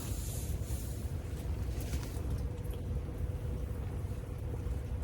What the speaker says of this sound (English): that wind is high